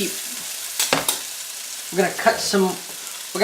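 Butter crackles and sizzles in a hot frying pan alongside steak, with soft fizzing and a few sharp scrapes as the meat is moved, close and fairly loud, with someone speaking briefly over it.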